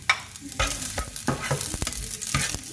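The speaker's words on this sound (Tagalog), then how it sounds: "Igisa lang natin ng bawang" Garlic sautés in hot oil, crackling and sizzling steadily with repeated stirring scrapes and spatula knocks, close and fairly loud.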